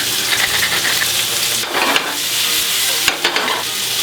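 Onions and mushrooms sweating in a pan while a spatula turns them, a loud, close, continuous sizzle with scraping strokes and a couple of sharp clicks, no voices.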